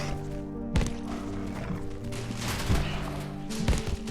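Gunfire in the video game Abiotic Factor, several sharp shots spaced irregularly across a dense, noisy game soundscape, loud and close.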